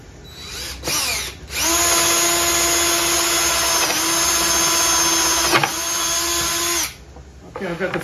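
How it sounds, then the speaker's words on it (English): A drill press bores 3/8 inch holes through wooden discs, a loud steady whine lasting several seconds between short bursts of motor start-up and spin-down, nearby. "all I got to do is drill the holes, a 3/8 inch hole in each of these discs"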